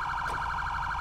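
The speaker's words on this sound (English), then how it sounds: "Let's get a siren check" A police car siren sounds in a roleplay video game, a loud, steady electronic wail pulsing in a quick repeating cycle that fills the moment without any talking.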